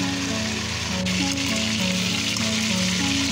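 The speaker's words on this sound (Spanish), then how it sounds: "subimos el fuego para que se dore bien y se quede bien sellada la carne" Chicken pieces brown in a hot pan over raised heat, giving a steady, dense frying sizzle that crackles continuously under background music, with no talking.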